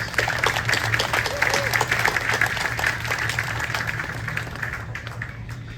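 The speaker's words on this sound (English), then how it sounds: "So I'd like to give him a round of applause, please." Outdoors at a city council event at a swing bridge, a crowd gives a steady round of applause, clapping continuous and moderately loud over a low constant hum, slowly thinning toward the end.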